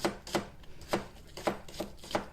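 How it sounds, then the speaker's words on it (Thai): A knife slices green onions on a cutting board: about eight crisp chops in a fairly even rhythm, close and clear, with no talking. "จากนั้นเราก็เอาต้นหอมนะคะมาซอยสักหนึ่งต้นหรือสองต้น"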